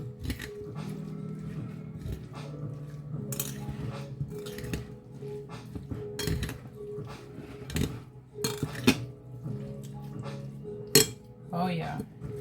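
Crushed red pepper stirred into a mango coleslaw, a utensil clinking and scraping against a bowl in irregular taps and knocks, fairly close and moderately quiet.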